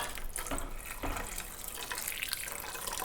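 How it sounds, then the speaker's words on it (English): Boiling water being poured into an oversized soup pot holding potatoes and stinging nettles, a steady close splashing pour that keeps going without a break. "And then I'm gonna add some boiling water."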